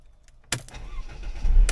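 A 2018 Mercedes C200T estate engine cranks and catches with a sharp burst, then settles into a low idle rumble close by, with a brief click near the end.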